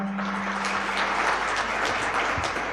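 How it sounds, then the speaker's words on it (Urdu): Audience applause at a university Independence Day event, a dense, steady clapping wash lasting the whole stretch at fairly close range, with a low electrical hum underneath and no speech. "یاسر صاحب کے لیے تالیاں ہونی چاہیے"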